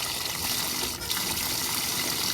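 Warm water gushing and spraying into the drum of a Maytag Atlantis washer, a steady, loud hiss of liquid pouring close by with one brief dip midway and no voices.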